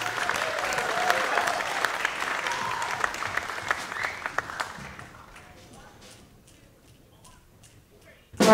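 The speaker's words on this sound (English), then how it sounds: "Please give them a warm round of applause." An audience at a national youth jazz competition applauds to welcome a high school jazz band, loud sustained clapping that gradually thins and fades into scattered claps and near quiet.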